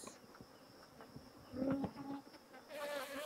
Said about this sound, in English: You can hear the hissing sound of the bees